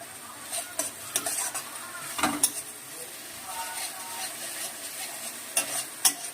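Spice paste is stirred in hot oil, with a continuous sizzle and crackle of splattering under intermittent scrapes and knocks of a spatula against the pan.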